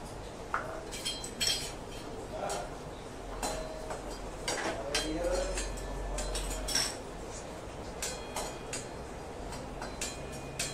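Curry leaves roast in a dry pan for sesame chutney, with a faint crackle under scattered spatula scrapes and metallic clinks against the cookware, all quiet and close.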